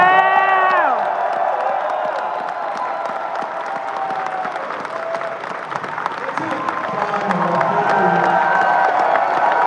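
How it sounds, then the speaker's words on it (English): A convention panel crowd cheers and applauds for the Power Rangers cast, loud clapping mixed with whoops and shouts, while a sustained musical tone rings over the opening and voices mingle through the noise. "please join me in giving a huge round of applause for the cast of Power Rangers"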